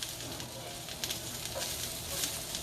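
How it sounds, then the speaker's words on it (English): Red cabbage seasoned with black pepper sizzles in a pan while being stirred, a steady, quiet frying hiss with faint scrapes now and then. "I'm just going to go ahead and just mix that around"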